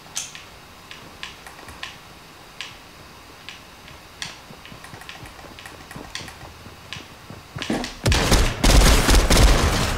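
Fortnite firefight with a faint run of spaced, clicky shots that builds into a loud dense burst of gunfire near the end.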